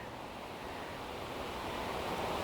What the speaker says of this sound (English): So it's not cold, it's just windy.